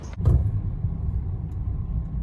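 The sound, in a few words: car driving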